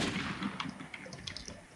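Gunfire in the online survival shooter The War Z, a short burst of distant, echoing shots and cracks within a noisy outdoor game soundscape, with no talk.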